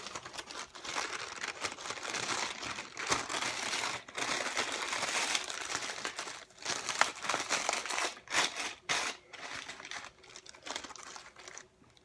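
Parchment paper crinkled and rubbed back and forth during dry sifting, giving a close, busy run of crackling and rustling bursts with brief pauses, and no talking.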